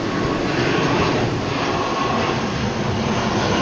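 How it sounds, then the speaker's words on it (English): An Aer Lingus ATR 72 turboprop airliner drones loudly and steadily, a dense broadband roar of engines and propellers with no break and no talking. "The other ATR 72 Aer Lingus."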